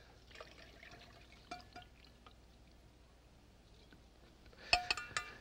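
Cooked scallops being drained, liquid trickling and dripping quietly for several seconds, ending in a short burst of louder splashing and clinking near the end, with no talking.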